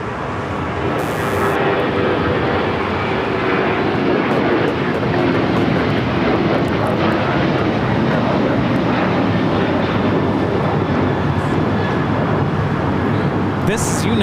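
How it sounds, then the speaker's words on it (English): A United Airlines Boeing 737-900ER jet taking off from LAX, its engines a loud, continuous roar that fills the whole stretch, with a brief voice breaking in near the start. "This is United Airlines 2377 taking off to Houston Intercontinental, the 737-900ER"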